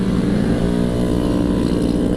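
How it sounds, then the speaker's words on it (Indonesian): A loud motorcycle engine drones steadily up close on a road between Bandung and Garut during post-Lebaran holiday homecoming traffic, with a rough, continuous rumble throughout. "aduh lumayan berisik ini motor"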